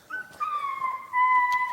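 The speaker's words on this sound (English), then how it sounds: "As you can hear, the beagle's going crazy." A beagle whimpers and yips in drawn-out, high-pitched whines, two long close cries in quick succession with nothing else heard.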